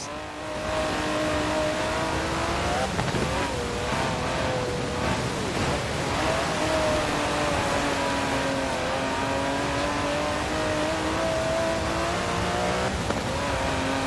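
Aston Martin DB11 engine in Forza Horizon 4, a loud close drone that rises and falls through revs and gear changes across the whole stretch.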